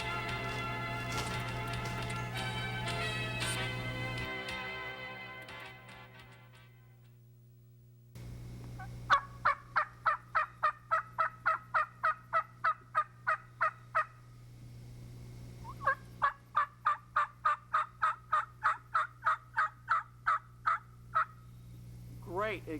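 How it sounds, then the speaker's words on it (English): Wild turkey hen yelps in spring woods: two long runs of evenly spaced, nasal yelping notes, loud and close, preceded by a sustained tonal call that fades into near silence. "Great examples of hen yelps"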